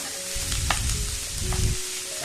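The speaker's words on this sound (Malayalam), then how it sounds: "സവാള ഇട്ട് നന്നായിട്ട് വഴറ്റിയെടുക്കാം." Three large, finely chopped onions sauté in hot fat for a spicy chicken ghee roast: a steady, close sizzle with bursts of louder crackle and scraping as they are stirred, no voices.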